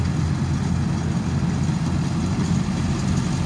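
A tractor engine idles steadily up close, a low, even diesel rumble with constant vibration and no speech or other sounds over it.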